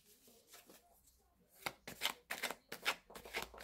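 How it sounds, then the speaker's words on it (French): Oracle cards shuffled for a tarot-style reading, a run of crisp riffling bursts in quick succession, close and fairly loud after a quieter start with faint murmuring. "on reprend notre tirage avec l'oracle"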